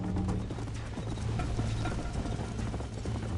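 Horse hooves in the Red Dead Redemption video game clip-clop in a quick, steady gallop, loud and continuous under layered game ambience.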